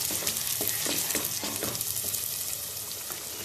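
Yogurt frying and sizzling in a pan with ginger-garlic paste and onion paste, a steady close crackle that carries on throughout with soft stirring scrapes and no talking.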